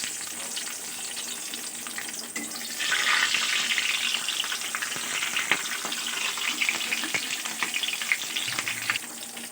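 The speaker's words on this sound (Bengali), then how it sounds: "কালো জিরে ফোড়ন দিলাম ও পাঁচটা কাঁচা লঙ্কা ফোড়নে দিলাম" Black cumin seeds and five green chillies temper in hot oil for a pabda fish dish. The oil gives a loud, crackling sizzle that swells sharply a few seconds in, then holds as a dense, steady spatter heard up close without voices.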